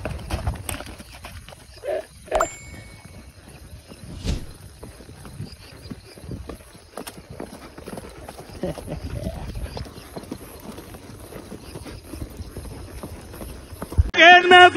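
Horse hooves clip-clopping at a ranch during vaquejada-style training, a steady scatter of hoof knocks on the ground with some louder hits, heard alongside people talking and background chatter.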